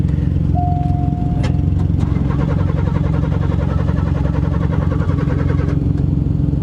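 A close old car engine runs rough and unevenly at idle, with a rough, pulsing rattle throughout and a brief high whine near the start.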